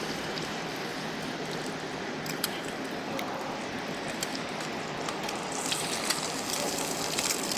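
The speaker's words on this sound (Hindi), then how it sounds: "ये देखें अंडा फ्राई हो रहा है।" Egg frying in a pan for a chicken club sandwich, a dense continuous sizzle with crackling pops scattered throughout, close and fairly loud, with no talk.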